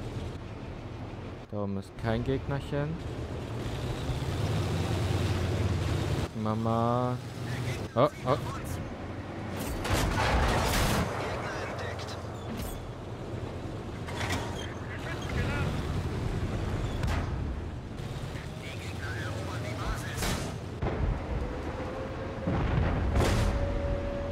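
Tank cannon shots in World of Tanks on PS4, several sharp booming blasts spread through the stretch amid engine rumble and game sounds, with someone talking excitedly throughout.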